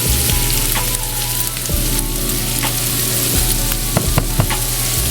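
Vegetables sizzle and caramelize in a hot pan, a steady loud crackling fry with small pops and occasional stirring, no voices.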